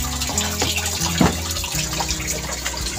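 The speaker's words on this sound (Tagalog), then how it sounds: "So dito po tayo kukuha ng tubig na ating gagamitin na ilagay doon sa box po." Water runs and splashes steadily as a nutrient solution is poured into a growing box for spring onions, a close, continuous gush with a brief louder slosh partway through.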